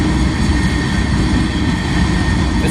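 A long freight train made up of many small tank cars rolls past close by, giving a loud, continuous rumbling hum with faint wheel clatter and no voices.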